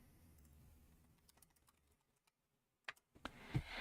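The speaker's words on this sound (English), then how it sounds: "What's my IG? I'll type it." Quiet taps on a computer keyboard come in short, scattered bursts, with faint clicks early on and a louder cluster of keystrokes near the end.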